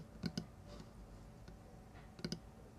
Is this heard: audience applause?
no